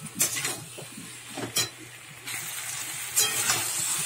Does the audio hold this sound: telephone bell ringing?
no